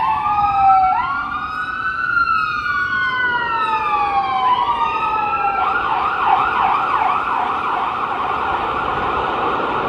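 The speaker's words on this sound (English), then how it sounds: "This is an ambulance." A loud ambulance siren wails close by, its pitch sweeping up and down, then switching to a faster warbling yelp.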